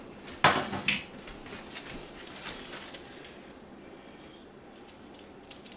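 A metal frying pan is handled in a home kitchen while preparing jalapeño cheddar burgers, two sharp clanks early on followed by quieter scrapes and light knocks.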